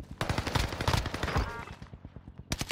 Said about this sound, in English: There's a person shooting up here.